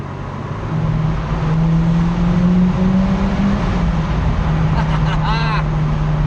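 Car cruising through an empty tunnel at about 30 mph, a loud steady engine and road drone echoing close in, with a brief higher whine near the end.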